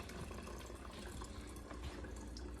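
Water runs steadily through a Bunn coffee maker into the pot, a soft continuous trickling and splashing flow with faint drips, no talking.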